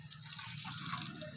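Rose water poured over a deity's image during a Tamil home abhishekam ritual, a soft steady trickle and patter of liquid running continuously at low volume with no talk.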